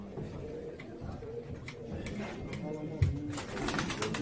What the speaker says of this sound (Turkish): Kuşlar kalktı.